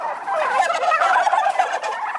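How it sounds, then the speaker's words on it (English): Farm turkeys gobble loudly and close, a continuous warbling chorus of overlapping calls with no talk. "These turkeys are loud."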